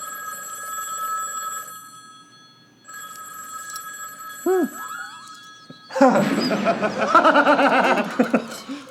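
A telephone in an action movie rings with a steady electronic trill in two long stretches separated by a short pause. A brief squeak follows, then a burst of chuckling and laughter.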